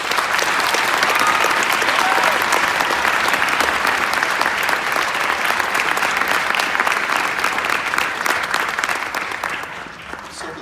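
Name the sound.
audience applause for high school honor band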